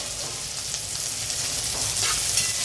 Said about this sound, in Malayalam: തക്കാളിയെല്ലാം ചേർത്ത് ഒന്ന് വഴറ്റി വരുമ്പോൾ നമുക്ക് അരച്ചെടുക്കുന്നത് വരണം.